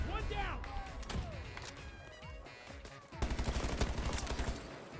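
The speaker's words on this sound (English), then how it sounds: "I bet you that the explosions over here are him spamming" Rapid explosions and gunfire-like bursts from C5 charges being spammed in a video game, a dense, loud barrage of overlapping thuds and cracks with game sounds throughout, intensifying into steady pounding near the end.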